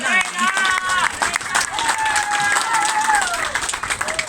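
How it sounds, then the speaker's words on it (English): Audience applause for a speaker at a big opening event in Ecuador, a dense, steady wash of clapping with cheering and voices carrying over it throughout. "So a big applause for Mary Young"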